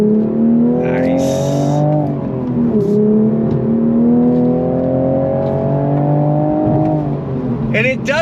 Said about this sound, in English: But I love the pops and bangs coming out of the exhaust.